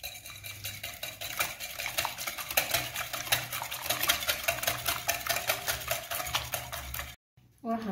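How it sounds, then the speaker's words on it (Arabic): A spoon stirs an egg and sugar mixture in a bowl for a cake batter, making a steady, rhythmic scraping and clinking close up that runs continuously, then stops briefly near the end. "خلط الخليط تاعي مليح مليح."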